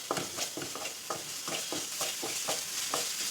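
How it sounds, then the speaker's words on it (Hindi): Masala of turmeric, coriander, cumin and curry powder frying in a pan, soft sizzling under repeated stirring scrapes in a steady rhythm, fairly quiet and close, no talk. "इसको थोड़ा और भून लेंगे।"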